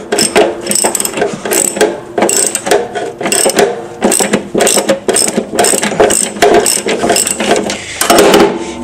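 Loosening a screw and nut with a lock washer on a Vespa P200E engine, a steady run of close, loud ratcheting clicks in quick rhythmic bursts, with a louder metallic rattle near the end.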